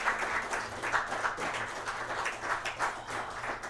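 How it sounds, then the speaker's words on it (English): A live show audience gives a round of applause, steady moderately loud clapping from many hands that continues evenly throughout, with no voices over it. "It gives these people another round of applause."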